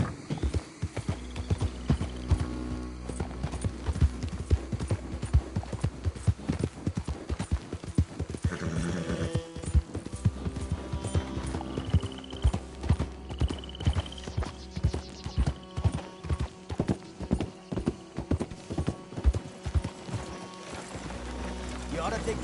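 Horse hooves clip-clop steadily at a walking pace in Red Dead Redemption 2, a continuous rhythmic clatter under game ambience, with voices speaking over parts of it.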